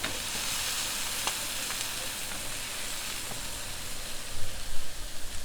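A rack of pork browns in hot fat in a tilted pan, giving a steady, dense sizzle and hiss throughout with a few faint clicks, and some louder spattering crackles near the end.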